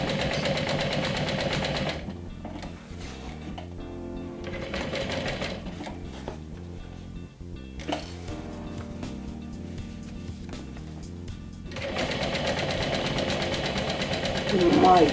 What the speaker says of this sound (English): We're going to sew this all around with an 1/8 of an inch seam allowance.